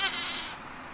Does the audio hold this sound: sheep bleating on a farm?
yes